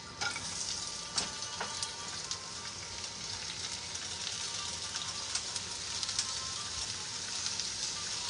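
Peppers and onions fry in a hot pan for ground turkey fajitas, giving a steady, close, dense sizzle like light rain with occasional sharper pops throughout.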